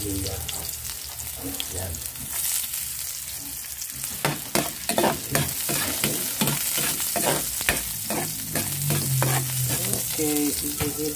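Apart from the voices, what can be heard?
ginger being toasted and stirred in a pan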